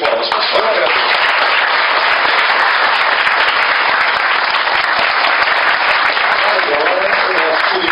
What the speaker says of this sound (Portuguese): Uma salva de palmas, professor.